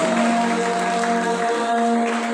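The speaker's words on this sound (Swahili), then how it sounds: "Pigia Yesu makofi mazuri." A church congregation claps steadily for Jesus. The loud, continuous applause runs under sustained musical tones.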